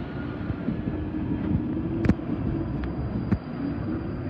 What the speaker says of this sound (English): Northern Line, departs Finchley Central for High Barnet.